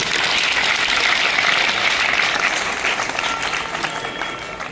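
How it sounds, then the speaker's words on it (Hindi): Loud, steady applause from a school audience at an Independence Day flag-hoisting ceremony, dense continuous clapping welcoming a group song, filling the whole stretch with little talk. "जोरदार तालियों से स्वागत कीजिए"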